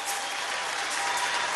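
An audience applauds for Guárico, a dense, even burst of clapping that holds steady throughout.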